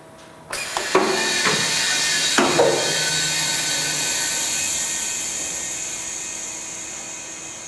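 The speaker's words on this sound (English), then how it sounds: "Now we're going to go ahead and turn the air on." Compressed air switched on in a DL-NCD machine with a dust hood: a sudden loud, steady hiss joined by a couple of mechanical clunks, then holding and slowly easing off.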